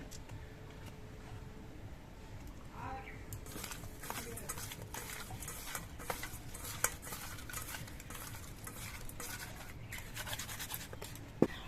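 Cleaned prawns are rubbed with salt and turmeric by hand, with wet squelching and rustling of the fish in a bowl, quiet and continuous, and a few faint clinks.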